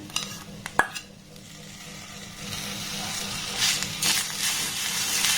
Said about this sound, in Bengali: গ্যাসের ফ্লেমটাকে একদম লো রেখে এবার এটাকে একটু ভালোভাবে নাড়াতাড়া করে নেব অটোমেটিক দেখবেন এই গুড়টা কিন্তু মেল্ট হয়ে যাবে